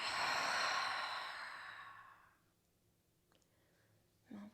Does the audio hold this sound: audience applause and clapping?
no